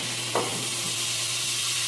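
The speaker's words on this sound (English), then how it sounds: "it leached out all of its water, and now they're sauteing." Mushrooms sauté in a pan for risotto after their water has cooked off, giving a steady close sizzle and hiss with one brief stir or scrape near the start.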